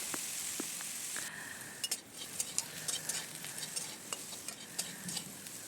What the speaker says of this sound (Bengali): একসাথে ভেজে নিচ্ছি আলুর মধ্যে সামান্য হলুদ এবং লবণ দিয়ে লবণটা তো আমি আগেই দিয়ে দিয়েছি এবারে ভেজে নিচ্ছি লাল লাল করে